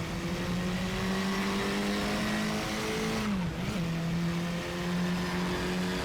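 KTM X-Bow RR race car engine in the RaceRoom racing game at Red Bull Ring, a loud, steady high-pitched drone held near constant with a brief dip and recovery midway, no talk.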